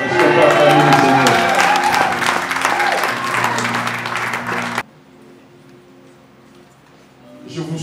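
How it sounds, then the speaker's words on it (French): Wedding guests in a church burst into loud, sustained applause and cheering that fills the room, then cut off abruptly into near silence before clapping begins to rise again at the end. "Est-ce qu'on peut acclamer le Seigneur?"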